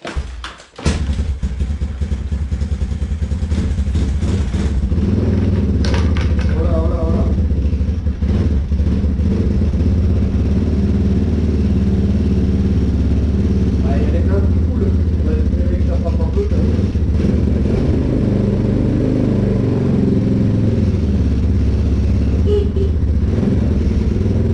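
A new Chinese-made supermoto motorcycle engine catches after a brief moment and runs loudly nearby, a steady, rough idle drone with slight shifts in revs throughout.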